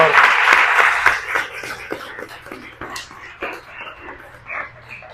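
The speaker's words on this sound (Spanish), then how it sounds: "Un aplauso para Amos, por favor." An audience at a marketing and sales talk breaks into loud clapping that starts strong and fades over a few seconds, with scattered claps trailing off.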